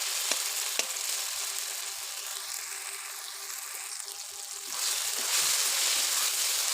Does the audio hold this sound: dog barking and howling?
no